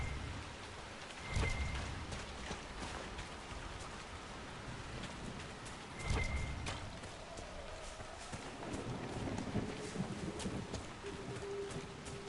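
Steady rain falls across a game level in Dragon Age Inquisition, a dense continuous hiss with a couple of brief heavier bursts and faint tonal game sounds; no one talks.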